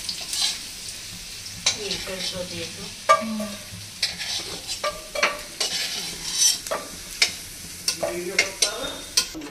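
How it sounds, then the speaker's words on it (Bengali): Potatoes frying in a pan in a home kitchen, a busy sizzle with frequent scraping and stirring clatters at close range, no talk over it. "আলু ভাজা হচ্ছে"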